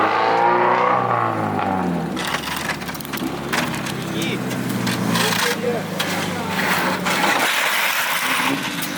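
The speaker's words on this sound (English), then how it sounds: "the Miata is coming." A Mazda Miata pulls in at a Japanese car meet, its engine rumbling and revving up close amid crowd noise, with people talking over it.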